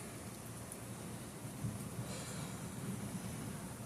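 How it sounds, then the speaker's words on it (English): Steady rain falls during a thunderstorm, a continuous broadband hiss with faint low rumbles, heard alone with no voices. "Once the rain thunderstorm passes, we will do our live stream."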